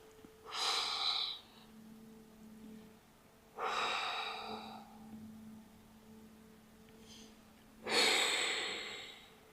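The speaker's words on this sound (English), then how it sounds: "Breathing deeply." Deep breathing during a hamstring stretch: three slow, airy breaths close to the microphone, each a few seconds long with pauses between, faint and alone.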